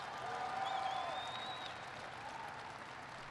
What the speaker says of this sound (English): give it, Kathleen, a big round of applause